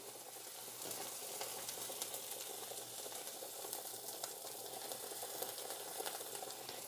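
Spaghetti sauce cooks in a pan while being stirred, giving a steady, close sizzle with faint scraping, and no voices.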